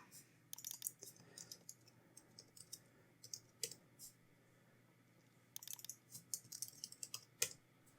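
Typing on a computer keyboard, bursts of quick light key clicks separated by pauses, close and fairly quiet.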